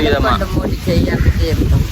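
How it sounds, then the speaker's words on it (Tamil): Strong outdoor wind in Jaffna buffets the microphone with a loud, continuous rumble as people talk. "என்ன காத்தல்லோ ஓ காற்று"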